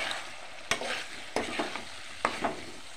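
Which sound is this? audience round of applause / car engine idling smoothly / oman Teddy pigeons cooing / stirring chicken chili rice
stirring chicken chili rice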